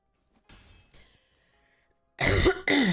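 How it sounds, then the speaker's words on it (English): A person coughs twice, two loud, close, harsh bursts back to back near the end, after a few faint earlier breathy sounds, with no talking. "Coughing."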